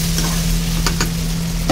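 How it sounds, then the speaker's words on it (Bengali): Potatoes frying in hot oil in a home kitchen give a steady close sizzle, broken by a few soft scraping stirs. "এবার আলুটাকে ভাজবো। লাল লাল হবে।"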